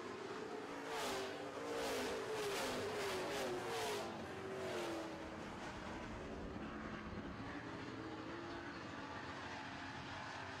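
Super trucks race around an oval track in a feature event, several engines roaring and jockeying together, swelling as the pack passes close then settling into a steady, distant drone.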